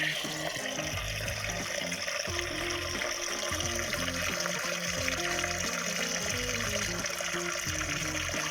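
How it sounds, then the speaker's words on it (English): Water runs steadily into a pet's automatic water dispenser, a constant close trickle and splash with a faint voice and other sounds underneath. "water goes in there."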